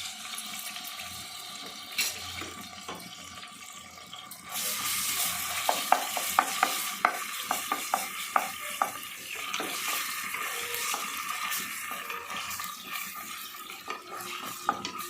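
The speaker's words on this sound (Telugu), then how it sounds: "మనం చక్కగా ఫస్ట్ అల్లం వెలిగించేసి చేసుకుందాం" Ginger frying in a generous amount of oil for a raw prawn and chana dal curry, starting quietly and then jumping to a loud, dense crackling sizzle dotted with sharp pops and spoon taps, with no speech.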